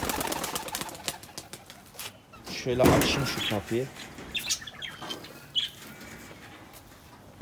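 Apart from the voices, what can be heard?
tumbler pigeons cooing and flapping in a coop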